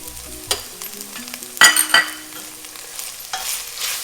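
Mutton keema with red chili powder stirred in a pan, giving soft frying noise with a few distinct scraping and clattering stirs of the spoon, close and without speech.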